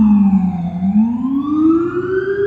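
An emergency vehicle siren wails on a city street, loud and close, its pitch sliding down then rising steadily as it passes, heard alone without talk.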